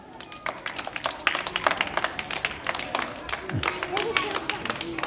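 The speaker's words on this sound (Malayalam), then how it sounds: "ഒന്ന് കൈയടിച്ച് പ്രോത്സാഹിപ്പിക്ക്" Scattered hand claps from a small group of children ring out in a lively, slightly uneven burst, with chatter and background murmur mixed in throughout.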